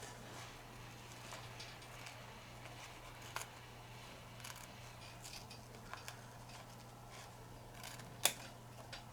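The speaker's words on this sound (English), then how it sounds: "See how easy it is with these curved scissors?" Curved scissors trim embroidery fabric after the hoop is removed: a few faint, sparse snips and clicks over a low steady hum in a very quiet room.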